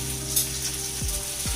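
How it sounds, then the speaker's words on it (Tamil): Fish frying in oil in a pan beside a simmering mango curry, a steady close sizzle that holds throughout with a couple of faint low clunks, with no talk. "மீன் ஃப்ரை கிட்டத்தட்ட ரெடி ஆகிட்டுருக்கு"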